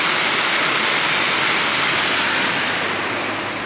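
Steady rushing of running water, a continuous broadband wash that stays loud and even throughout with no voices.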